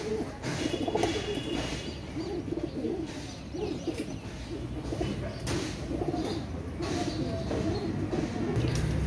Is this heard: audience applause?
no